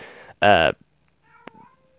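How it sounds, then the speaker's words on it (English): A single loud, close cat meow, followed by quiet room sounds and a faint brief murmur. "That's just my cat if you hear him."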